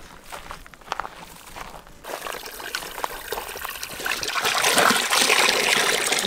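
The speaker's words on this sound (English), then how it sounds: "what I'm going to do now is pump out the remaining water and animals into this" Water pumped from a leaking garden pond into a container, a trickling, pouring stream that swells from faint dribbles into a steady, louder gushing flow over several seconds, with no talking.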